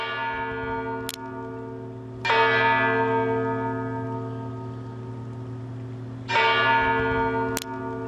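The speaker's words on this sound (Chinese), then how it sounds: "靠这个钟声十二响，哀悼为国牺牲的官兵一个民众。" Large bells of St. Michael's Golden-Domed Monastery in Kyiv toll at midnight in mourning, slow heavy strikes a few seconds apart, each ringing out with a long humming decay over a steady background drone.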